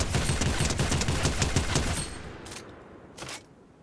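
Rapid automatic gunfire in a video game rattles loudly for about two seconds as a dense burst, then stops, leaving a quieter gap broken by two short sharp bursts of noise.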